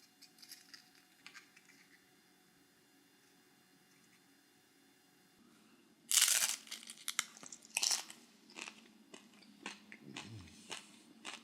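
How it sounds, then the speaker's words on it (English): A loud, sharp crunch of biting a homemade corn tortilla chip with spinach artichoke dip bursts out after near silence, followed by several smaller crunches and chewing sounds up close. "Did you hear the crunch on that chip?"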